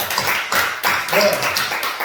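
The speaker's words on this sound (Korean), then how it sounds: "박수 한번 칩시다" Church congregation clapping together after a group reading, a dense burst of hand claps that swells in waves, close and fairly loud.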